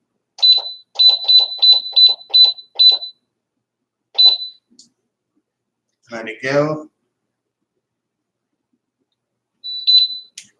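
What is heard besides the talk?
electric pressure canner beeping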